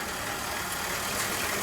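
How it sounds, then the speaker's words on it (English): A 1937 Rolls-Royce Phantom III V12 idles smoothly and quietly, a steady, even low hum with no revving, heard close and alone throughout. "So there's your ubiquitous Rolls-Royce V12 that doesn't seem like it's even running."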